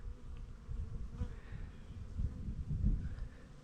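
Honeybees buzzing around hives in early May, a steady low drone of many insects close by with swells in loudness, no voices.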